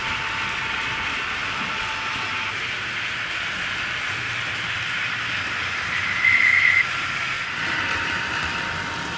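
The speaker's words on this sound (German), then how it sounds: "Den Zug, den ihr eben im Modell gesehen habt" A model train runs steadily along its track, a continuous rolling rumble with a brief louder stretch partway through, heard alone with no talking.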